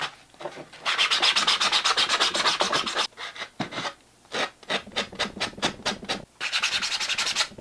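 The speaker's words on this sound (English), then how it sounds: "I'm going to use regular sandpaper there" Sandpaper rubbed by hand across a 3D printed piece, fast rhythmic back-and-forth strokes in several bursts with short pauses, close and clear with no talk.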